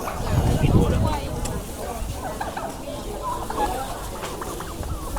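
Turkeys gobble and ducks and fowl cluck amid a busy outdoor crowd at a Thai-Lao market in Ban Nad, Nakhon Phanom, Thailand, with people talking throughout.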